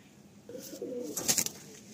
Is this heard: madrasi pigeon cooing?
yes